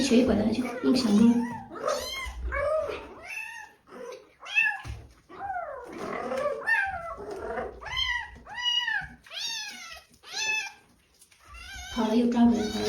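A limping stray mother cat tends her two restless kittens amid a dense run of repeated high meows and plaintive mews, close and fairly loud, with short pauses and some low rustling between calls.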